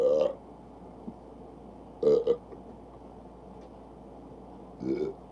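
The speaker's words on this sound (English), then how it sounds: "I got a burp." A person's burps during a live stream, three short loud belches spaced a couple of seconds apart with quiet in between.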